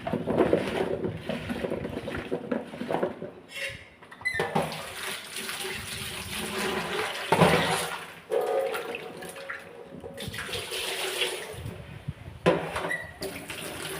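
Water runs and splashes in a kitchen as taro (kochu mukhi) is rinsed clean after being rubbed with salt. The flow is steady and fairly close, with sloshing and handling noises.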